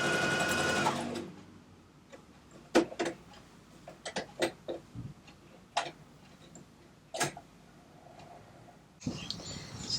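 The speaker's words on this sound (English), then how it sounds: "now I'm going to the sewing machine." Sewing machine stitching during collage work, heard as a short burst of fast mechanical chatter at the start and again near the end, with scattered clicks and taps of handling in between.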